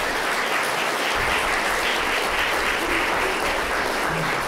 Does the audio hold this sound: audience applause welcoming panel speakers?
yes